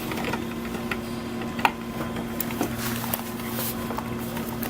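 A sewing machine back stitches a seat cover in a workshop, a low steady mechanical hum with faint regular ticking and a few soft knocks, close by and continuous.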